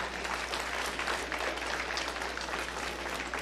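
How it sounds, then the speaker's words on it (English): A crowd at a county stock show applauds the junior showmanship contestants, with dense, steady clapping that holds throughout at moderate distance and no voices above it. "let's put a round of applause together here for our junior showmanship contestants"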